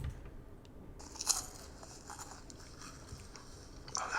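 Close crunching and chewing with a few sharper bites standing out, quiet and steady over about four seconds.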